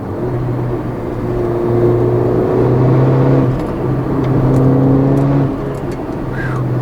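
A 2015 Mercedes-Benz GLA 45 AMG engine drones close from inside the cabin, its steady tone rising and falling as it pulls through gears, with a couple of small shifts in pitch.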